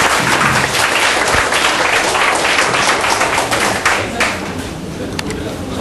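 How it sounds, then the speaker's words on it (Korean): An audience at a university number theory lecture claps for the professor, dense and fairly loud, then thins toward the end, with a voice speaking over it. "오늘 강의해 주신 김명희 교수님께 박수 부탁드립니다"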